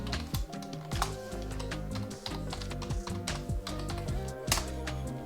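Rapid keystrokes on a computer keyboard as a password is typed, a quick uneven run of crisp close clicks and taps with no talking.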